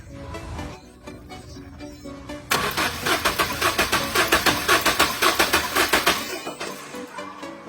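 A car that won't start, with its spark plug removed for testing, cranks over: after a quieter opening, the starter churns in a fast, even series of loud pulses for about four seconds without the engine catching, then stops.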